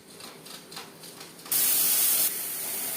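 A pressure cooker cooking vegetarian khichuri lets out a sudden loud hissing blast of steam that eases slightly but keeps going, after a quieter stretch of soft clatter.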